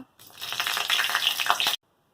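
Spices tempering in hot mustard oil in a kadai for shukto give a sharp, loud sizzle that starts abruptly, crackles steadily for about a second and a half, then cuts off.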